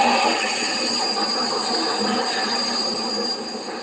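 An articulated Nacional de Mexico train runs steadily in the Roblox game, with continuous rail rumble, wheel hiss and high, sustained squealing tones throughout. It sounds fairly loud and close, with no talk over it.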